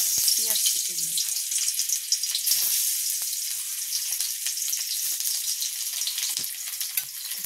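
Onions fry in oil in a pan, browning in a bright, dense, continuous sizzle with occasional crackles and spatters, close and steady, with a brief faint voice near the start.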